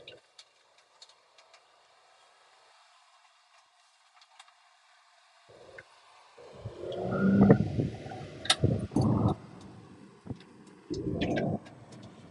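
A Daihatsu Hijet mini truck in two-wheel drive is taken out onto a road in North Carolina. After about six seconds of near silence, close engine and driving noise builds with some knocks and bumps, then settles into a steadier run.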